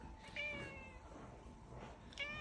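A farmyard cat meows twice, clear and fairly close, the calls separated by a pause, over a steady outdoor background hiss.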